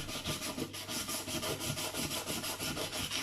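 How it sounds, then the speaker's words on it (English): Paint being scraped off a steering wheel in quick rhythmic rubbing strokes, close and harsh, repeating steadily for a few seconds. "So we can get some of the thicker chunks off with that. Just scrape that."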